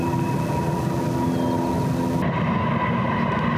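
A train passes by tracks near a wild campsite, its steady low rumble and rolling drone continuous at moderate distance with a faint hum layered over it.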